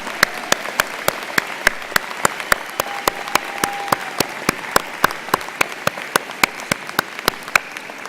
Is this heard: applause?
yes